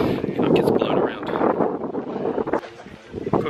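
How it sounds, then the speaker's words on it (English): Gusty wind blows outdoors at an evening stargazing spot, buffeting the microphone in rough, uneven rushes beneath a person talking nearby. "unfortunately, it's a bit windy"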